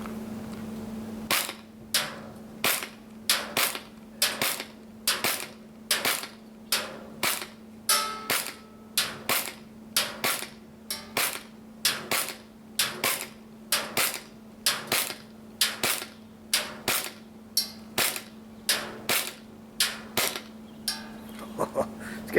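A Cybergun Canik TP9 Elite Combat airsoft pistol fires rapidly at an outdoor range, some two dozen sharp, evenly spaced cracks in a quick steady rhythm over a constant low background hum.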